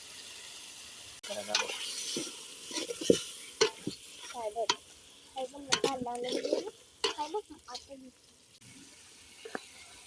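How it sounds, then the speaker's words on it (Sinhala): Tomatoes are stirred into a sizzling village-style chicken curry over a wood fire, giving a faint frying hiss under scattered stirring clinks and knocks, while a person talks over the top. "යාළුවනේ දැන් අපි ඉතුරු කරගත්ත තක්කාලි ටික මේකට එකතු කරගමු"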